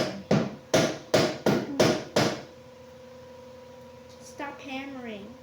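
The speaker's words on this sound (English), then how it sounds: "Stop hammering." Six sharp hammer blows ring out in a quick, even series, loud and close, followed by a steady electrical hum and a short stretch of speech.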